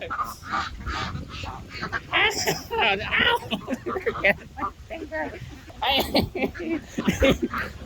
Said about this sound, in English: Greedy little ducks.